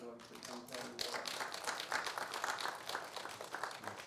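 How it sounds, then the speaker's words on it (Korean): A church congregation claps in welcome, a dense steady patter of many hands sustained throughout with a speaking voice over it. "나오실 때 우리 한번 박수로 환영하도록 하겠습니다."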